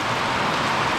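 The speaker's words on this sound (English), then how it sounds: "Now it's really raining." Heavy rain pours down at a tropical dive site in Dauin, Philippines, a dense, steady hiss of falling water close around with no voices.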